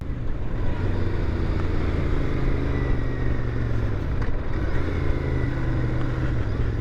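A 2021 Royal Enfield Int650 twin-cylinder motorcycle engine runs steadily while riding, a loud continuous drone with low harmonic hum that rises and falls slightly under rushing wind, with no voices.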